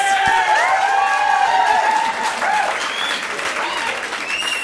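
Single audience members at a comedy show burst into loud applause mixed with whoops and cheers, a dense roar of clapping with voices shouting through it that eases slightly partway through.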